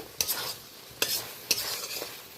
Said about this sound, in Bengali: এই দেখুন মশলা থেকে তেল হালকা রিলিজ করতে শুরু করেছে।